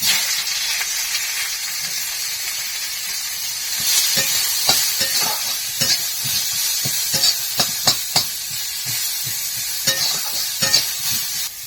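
Chopped onions hit hot oil seasoned with dried red chilies in a pan over a wood fire, giving a continuous loud sizzle and hiss punctuated by a series of sharp clinks and scrapes from stirring.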